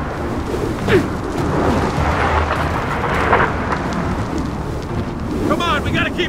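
Storm wind roars steadily in the Gears of War 4 video game during a dam crossing, a dense, loud, unbroken rush with no clear thunder crack standing out.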